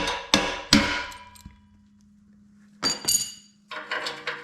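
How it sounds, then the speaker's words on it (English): Metal-on-metal hammer taps ring out on an exhaust stud of a 3.4L 991.1 Porsche 911, a few sharp close strikes in two separated bursts with a faint hum between them. "I'm cranking it till I get a little nervous, then I'm tapping it."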